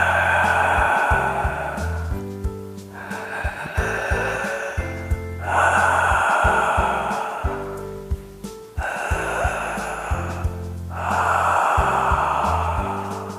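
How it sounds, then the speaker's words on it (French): Loud, noisy breathing done as a throat exercise in the style of Darth Vader, with long harsh rasping breaths in and out repeated in a slow steady cycle, close to the microphone and with no talking. "il s'agit d'une respiration très bruyante"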